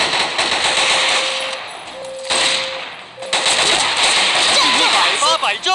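Rapid T91 rifle fire in a shooting game's target challenge, bursts of crisp shots running through most of the stretch with short gaps and a steady tone, while a voice talks over the action.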